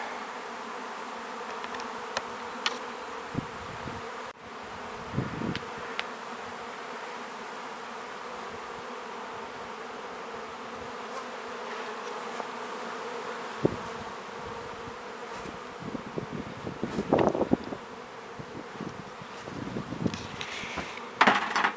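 Bees buzz steadily while being moved from a white hive into a brown 12-frame hive, a close, continuous hum with knocks and taps of hive handling scattered throughout.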